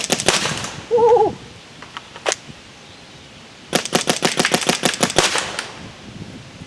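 Planet Eclipse Emek MG100 paintball gun, magazine fed, firing outdoors: a few isolated sharp pops, then a rapid string of about a dozen shots, close and loud, with a brief whoop of a voice early on.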